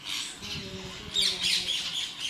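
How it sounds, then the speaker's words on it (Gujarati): Harsh parrot squawks ring out in quick succession, loud and close, growing busier toward the end. "તો જો અત્યારે કેટલા પોપટ આવ્યા"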